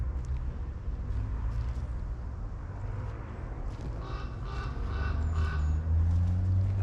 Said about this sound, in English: I can still hear cars